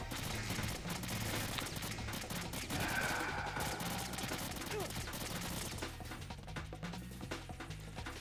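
Gunfire in the Metal Gear Solid 2 video game, a dense burst of sharp shots crackling over a busy, noisy game mix for several seconds before thinning out.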